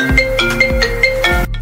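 Phone ringtone sounding for an incoming call, a loud electronic melody of repeating tonal notes with a bassy pulse, close and alone, cutting off abruptly near the end.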